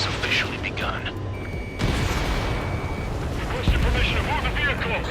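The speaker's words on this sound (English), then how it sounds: "Fire the AA!" Anti-aircraft guns fire in the Ace Combat 7 video game as a dense, steady barrage of booming bursts, with a sharper thump near the end, while voices talk over the combat.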